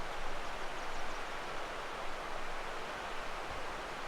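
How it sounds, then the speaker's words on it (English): A creek at Lassen Volcanic National Park flows steadily below, heard as a faint, even hiss of rushing water with no distinct splashes and no voices. "You can really hear that water down there, that creek's flowing."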